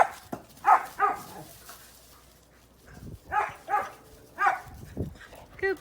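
A dog barks excitedly at a chew toy, several short high yips and barks in two bursts with a gap between, close by in a quiet room.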